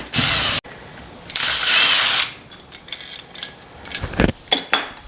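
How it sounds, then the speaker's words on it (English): A handheld screw gun backs out the screws of an old front door lock, giving bursts of ratcheting, whirring mechanical noise with short clicks and metallic rattles, close and fairly loud, without talk. "we're going to undo the old locks, and that's just a Phillips head screwdriver or a screw gun"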